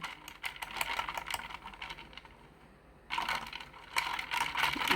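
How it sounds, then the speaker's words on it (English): Iced tea powder mix is shaken hard in a tumbler, producing bursts of rapid rattling and rustling, a brief lull in the middle, then vigorous shaking again, fairly faint and close. "it's gonna have to be shaken quite furiously"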